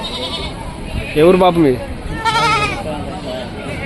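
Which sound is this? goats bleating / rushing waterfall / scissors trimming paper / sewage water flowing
goats bleating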